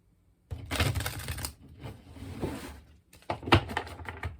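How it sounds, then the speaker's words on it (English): Brisk papery riffling and slapping of tarot cards being shuffled, in a few close bursts with short pauses between them. "Some shuffling for this."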